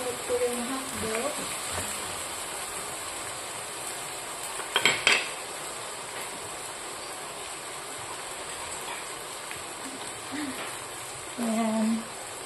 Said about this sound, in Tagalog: Ituin ko muna itong patatas bago ilunod ko yung hotdog.